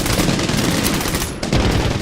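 Heavy machine gun hammering away in Medal of Honor: Warfighter, a loud, continuous rapid burst of gunfire with only a split-second gap before firing resumes.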